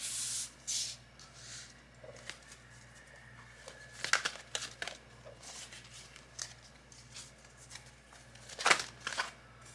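Soft papery shuffling and crinkling as tarot cards are handled and picked, with a few sharper slaps and rustles over a quiet low hum.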